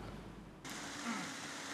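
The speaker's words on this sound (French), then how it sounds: "C'est sous une pluie battante que le Premier ministre Patrick Achi a parcouru les sentiers du jardin botanique de Xinglong." Heavy pouring rain falls on the paths of the Xinglong botanical garden in China, a dense, steady hiss that jumps suddenly louder partway through and then holds.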